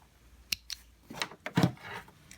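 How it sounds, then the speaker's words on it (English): Scissors snip loose sewing threads after stitching an invisible zipper, several quick close cuts with faint rustling of fabric between them. "Clip the threads."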